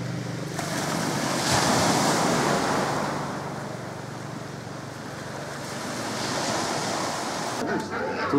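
Sea waves wash against a small village pier on a quiet Greek coast, a continuous surf roar with slow swells in loudness, wind buffeting the microphone throughout.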